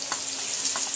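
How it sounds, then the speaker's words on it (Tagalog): Garlic and onion sautéing in leftover frying oil from pork chops, a steady high hiss of sizzling with a couple of soft stirring scrapes, close and continuous. "magigisa na po tayo ng bawang, sibuyas"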